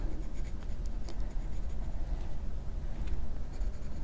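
Continuous scratchy scribbling of colored pencils on paper, close and steady, with a low background rumble underneath.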